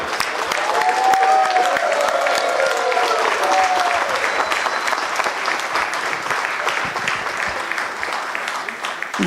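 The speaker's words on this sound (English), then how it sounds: "let's have a huge round of applause for Mr. Siddharth Sinkar" A packed hall at the Saraswat Chamber annual conclave in Goa erupts in loud, sustained applause for an arriving speaker, a thick wash of clapping from many hands that holds throughout, with a faint murmur of voices underneath.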